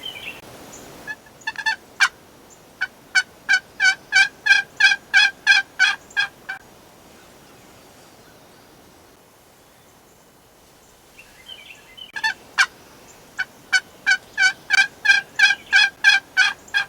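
Wild turkey gobbling in an open field, two rapid series of repeated loud calls separated by several seconds of quiet outdoor background.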